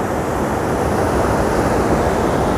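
The Mandakini river near Gaurikund, on the Kedarnath route, rushes past under high pressure: a loud, close, unbroken roar of churning water that holds steady throughout, with no voices.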